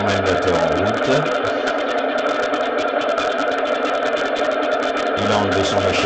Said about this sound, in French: on met le moteur en route